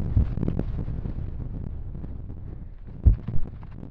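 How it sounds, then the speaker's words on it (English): Strong storm wind buffets a fell summit on Side Pike near Lingmoor Fell in the Lake District, a low rumbling roar against the microphone with heavy gusts thumping near the end. "The wind hasn't died down yet."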